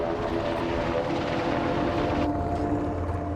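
A rescue helicopter hovers over the sea during a winch evacuation of a diver, its rotor and engine roaring as a steady, loud, continuous drone with no voices.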